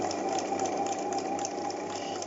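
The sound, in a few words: sewing machine sewing around a curved seam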